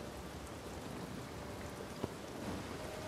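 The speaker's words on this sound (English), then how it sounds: "Oh, now it's raining." Steady rain falls in the video game Uncharted 4, a constant soft hiss of drops spreading evenly across the whole stretch with one brief sharp tick near the middle.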